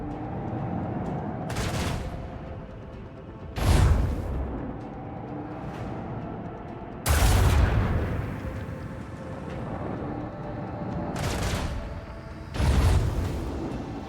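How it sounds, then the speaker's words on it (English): Torpedo launches and explosions in a Warhammer 40K Rogue Trader space battle, four heavy booming blasts spaced several seconds apart over a constant low rumble, loud and close. "They directed their torpedoes into my torpedoes again."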